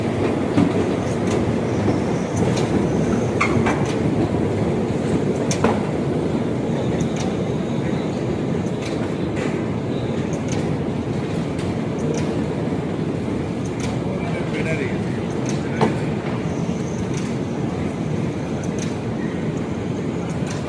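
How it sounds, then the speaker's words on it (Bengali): An Elizabeth line train runs underground from Whitechapel toward Stratford in London, its steady loud rumble broken by occasional rail clicks and faint squeals, with a murmur of voices in the carriage. "আমরা এলিজাবেথ লাইন ধরে স্ট্র্যাটফোর্ডে যাব"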